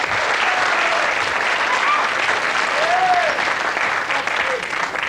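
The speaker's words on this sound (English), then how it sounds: "So another round of applause as you retake your seat." A game-show studio audience applauding: steady, dense clapping fills the whole stretch at full strength, loud and close, with brief faint vocal sounds over it.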